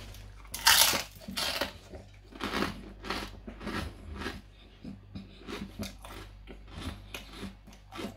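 Crispy fried pork ear crunches between teeth in loud close bites followed by steady chewing crackles, repeated over several seconds.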